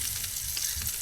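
Garlic sizzling in a pan at a bush campsite, seasoned with Himalayan pink salt, a steady close frying hiss that runs without a break and has no talk over it.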